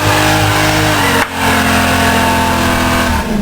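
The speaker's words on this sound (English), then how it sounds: "He has a 1969 Plymouth Roadrunner, 440 cubic inch, 390 horsepower with a 4-speed and a 410 gear." A 1969 Plymouth Roadrunner with a 440 cubic inch, 390 horsepower V8, four-speed and 4.10 gear revs loudly and steadily up close, the engine note dipping briefly mid-burst before climbing back to a sustained roar.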